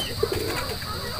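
Domestic pigeons on a box perch give a couple of soft, brief coos close by, set against a low, steady background hum.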